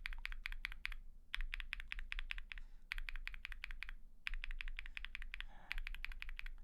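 Rapid bursts of keystrokes on stock Durock POM linear switches, fast rhythmic clacks in several runs separated by short pauses, close and clear with no talk.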